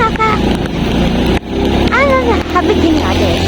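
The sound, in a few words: Honda Supra motorcycle engine vibrating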